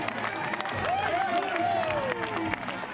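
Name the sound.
crowd cheering at Ironman finish line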